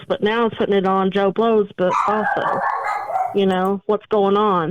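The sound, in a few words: dog barking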